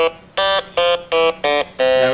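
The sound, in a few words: electronic keyboard instrument played with a stylus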